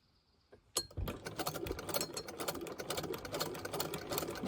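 A hand crank sewing machine stitches vintage feedsack fabric for a coin purse, starting after a short quiet moment and then running as a steady, close, rhythmic mechanical clatter with no talking.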